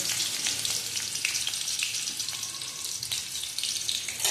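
Sliced onion sautéing in oil in a pan, a continuous close crackling sizzle with faint occasional clinks, steady and unbroken, with no talking.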